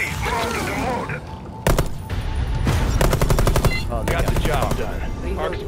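Rapid bursts of light machine gun fire in the video game Rainbow Six Extraction, loud and close, with sharp repeated shots and booming impacts, several bursts back to back amid game effects.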